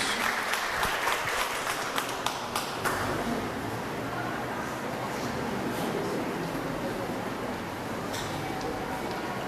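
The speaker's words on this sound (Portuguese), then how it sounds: "Salva de palmas." A church congregation breaks into applause, a few sharp distinct claps at first that merge into a sustained, moderately distant wash of clapping filling the hall.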